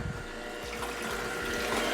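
A thick beet, lemon and ginger juice pressed in a NAMA juicer pours steadily into a container, a close, continuous liquid stream with faint gurgling.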